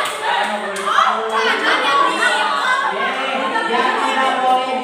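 Children in an Indonesian classroom clap along in the 'tepuk nyamuk' hand-clap game, with sharp claps mixed in among voices and chatter close by.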